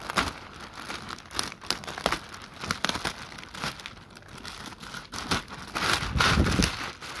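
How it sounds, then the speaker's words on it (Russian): Plastic protective bag being peeled and crinkled off the seat of an AKRacing Obsidian gaming chair, a steady run of close crackling and tearing rustles with no talk. "Не хочет отклеиваться пакет."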